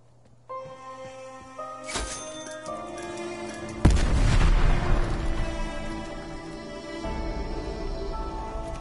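A nuke goes off in Star Wars Battlefront 2, first a rising tonal whine of game music and effects, then a single heavy, deep boom that rolls on in a long rumbling tail, loud and close.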